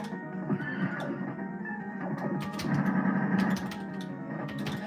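A horse whinnies in the arcade game Knights of the Round on an Arcade1up cabinet, a moderately loud neigh over continuous game music and effects.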